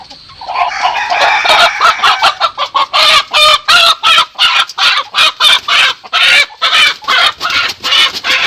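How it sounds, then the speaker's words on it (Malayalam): A fighting rooster at a poultry farm clucks loudly and close by, a long run of rapid, evenly spaced squawking bursts with no voices. "ഇതാണ് നമ്മളെ അങ്കക്കോഴി"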